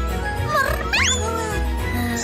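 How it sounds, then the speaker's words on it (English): A cartoon kitten gives two high, sliding meows, the second brighter and rising, over a steady musical bed. "Meow!"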